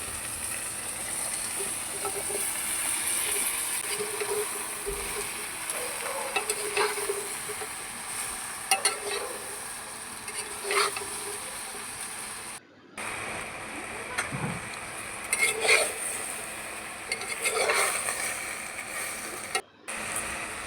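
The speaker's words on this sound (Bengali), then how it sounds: "পরিমাণ মতো নুন হলুদ দিয়ে সবজিগুলো নাড়বো" Vegetables fried and stirred in a clay pan with salt and turmeric, a steady close sizzle with repeated spoon scrapes and clicks, broken by two brief silent gaps.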